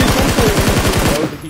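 Rapid automatic gunfire in a video game, a fast evenly spaced burst of loud close shots lasting just over a second before cutting off.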